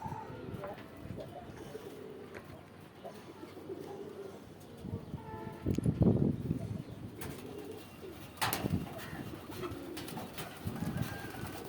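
Pigeons coo outdoors amid a busy, noisy background, with a louder burst of sound around the middle and a few sharper notes later.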